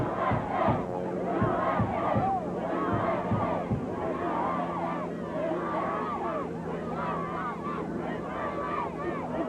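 Large, dense crowd of fans awaiting the 1980 US Olympic hockey team, cheering, shouting and whooping continuously and loudly, with some horn-like honks and wind buffeting the microphone.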